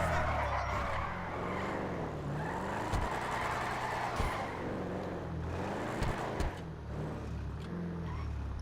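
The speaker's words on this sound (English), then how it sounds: "You get the double clutch burnout there." A car engine in GTA V revs hard through a double clutch burnout, its tone rising and dropping through repeated gear shifts, loud and steady with brief sharp pops between shifts.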